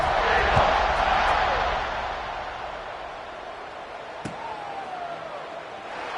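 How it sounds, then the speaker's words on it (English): Stadium crowd in the video game College Football 26 buzzing after a score, a dense roar that eases from loud to a steadier murmur, with a single sharp thump partway through. "this crowd is buzzing after that last score."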